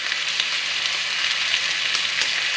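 About half a pound of brisket browning in a pan, a steady loud hiss of sizzling fat that runs unbroken throughout, with no talking.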